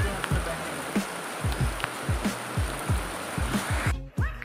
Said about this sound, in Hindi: पानी गिर रहा है बहुत ज्यादा।